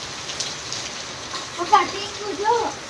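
Heavy rain falls in a steady, dense hiss on a village house and its tin roofing, continuous throughout, with a few faint voices and a brief whistle-like tone under it.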